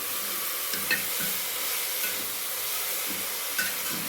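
Carrots sautéing in ghee in a pan, a steady hissing sizzle close by with a few soft stirring knocks and scrapes scattered through it.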